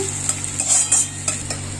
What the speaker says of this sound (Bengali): এই দেখো আমি পেঁয়াজটা ভাজতে দিলাম